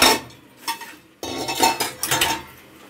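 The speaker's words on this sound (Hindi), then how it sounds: "अब प्याज हमारी भून गई है, अब मम्मी भिंडी डाल रही है।" Okra tipped into a pan of fried onions, with a few sharp metallic clatters of pot and utensil followed by stirring scrapes and light sizzle, close and fairly loud, no talking.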